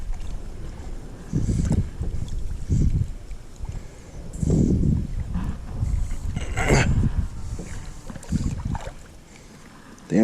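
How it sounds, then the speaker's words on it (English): Wind gusts buffet the microphone during a kayak trip on the water, with low rumbling bursts that rise and fall in uneven waves, and faint paddle and water sounds beneath. "it's hard to maneuver with all this wind"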